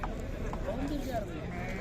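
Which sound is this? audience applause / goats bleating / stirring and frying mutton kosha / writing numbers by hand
goats bleating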